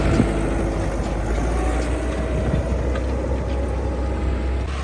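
A Massey Ferguson 385 tractor running in 4x4 gives a loud, steady diesel drone with a strong low rumble. It stays even and unbroken throughout.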